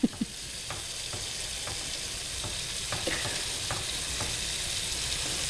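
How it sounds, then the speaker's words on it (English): Heavy whipping cream sauce stirred in a hot pan, with a soft continuous sizzle and a rhythmic series of faint spoon scrapes about every half second. Nobody speaks. "Heavy whipping cream. You want it nice and thick. Okay. Okay. We're just going to stir this around."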